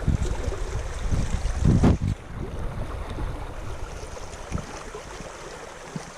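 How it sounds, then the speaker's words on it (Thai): Strong flow of the Mae Tuen river at a campsite, a broad rushing wash of water with wind buffeting the microphone and a louder surge near the start, steady and close. "น้ำไหลแรงมาก"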